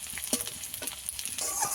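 Ground onion paste frying in a hot pan for an egg and eggplant curry, a soft continuous sizzle with occasional scraping stirs, close and fairly quiet.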